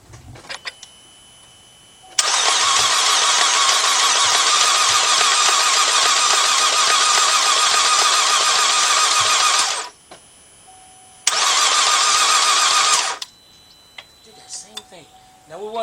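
A GM car engine cranks over after a timing chain replacement, two long spells of steady, loud whirring from the starter, separated by a short pause, with clicks and faint handling noises before and after.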